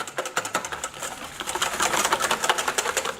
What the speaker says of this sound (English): And now we're gonna whisk the eggs.